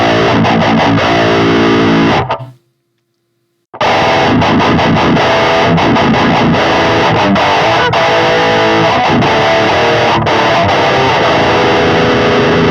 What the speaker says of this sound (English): let me just turn up the distortion or the grind